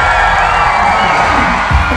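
Large concert crowd of about a thousand cheering and applauding, a dense, loud, steady wash of noise with no break.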